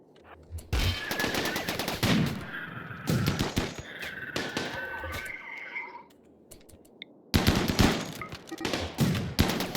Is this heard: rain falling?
no